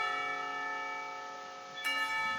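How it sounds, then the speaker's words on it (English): School lunch bell in the visual novel Katawa Shoujo rings as a sustained ringing tone that slowly decays, then strikes again near the end with a fresh, brighter onset. "The lunch bell rings"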